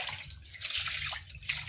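Fish pieces rinsed by hand in water after being rubbed with salt and turmeric, giving a steady close splashing and sloshing with small drips, no voices.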